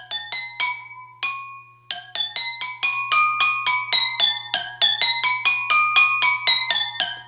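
Water-filled glass cups struck one after another as tuned musical notes, a steady run of bright ringing pings with a few longer sustained tones. The notes come close and clear, with no talking.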